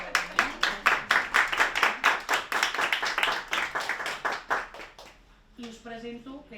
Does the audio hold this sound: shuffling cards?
no